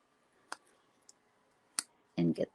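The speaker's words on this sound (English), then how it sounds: "I'm just going to take my paper snips and trim it in the middle" Paper snips cut through a paper banner in a few sharp, quiet clicks and snaps, with two louder snips close together at the end.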